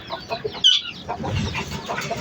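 Chickens cluck and squawk in a farmyard coop, a loud sharp squawk standing out among a steady run of close, overlapping clucks.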